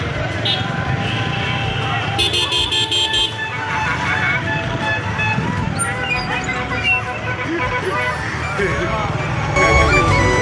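Car horns honk repeatedly through heavy, jammed road traffic during a Durga Puja immersion procession in Dumduma, with a dense engine and crowd rumble throughout and voices talking over it.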